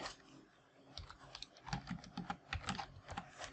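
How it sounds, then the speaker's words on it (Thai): Quick, irregular clatter of keys on a computer keyboard, with soft taps in short bursts, heard fairly quietly and up close with no voices. "แป๊บหนึ่งพิมพ์เกิน๊บก็จะได้แบบนี้ออกมา"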